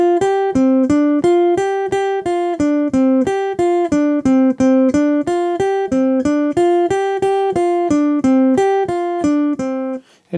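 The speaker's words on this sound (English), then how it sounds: "I'm going to play whole steps using the first and second fingers, and then the second and third fingers also" Chapman Stick whole-step finger exercise: an even, rapid stream of plucked tapped notes alternating up and down by whole steps, played alone for about ten seconds, close and clear.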